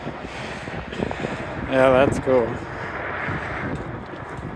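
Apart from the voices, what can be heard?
strong wind outdoors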